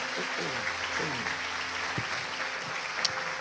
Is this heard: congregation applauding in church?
yes